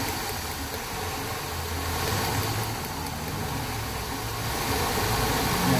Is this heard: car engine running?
yes